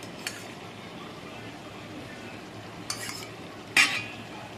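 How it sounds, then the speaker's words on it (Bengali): Ghee goes into a pot of biryani as it is stirred, giving a soft continuous sizzle with a few scraping strokes and a sharp metallic clink near the end. "ঘি দেওয়া হচ্ছে"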